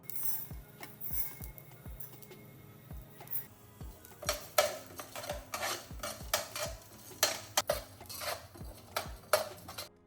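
Chana dal and urad dal roasting in a pan, stirred steadily with a utensil, giving a fast run of sharp metallic scrapes and clinks, close and fairly loud, with no voices.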